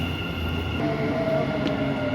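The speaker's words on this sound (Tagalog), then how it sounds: "may dumating ng tren" A Dubai metro train pulls into a station with a continuous rolling rumble and a faint whine that rises in the middle. Wheel and track noise stays steady, and nobody speaks.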